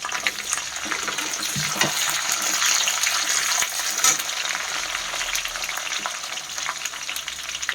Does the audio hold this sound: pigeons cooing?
no